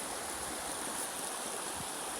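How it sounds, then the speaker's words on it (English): A free-flowing river at a wild riverside campsite rushes steadily and continuously at close range, with a broad, even hiss and no voices. "Just beautiful free flowing river."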